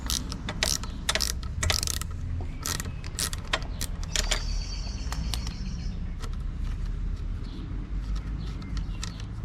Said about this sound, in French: on va prendre la clé de 8, on va défaire le sélecteur.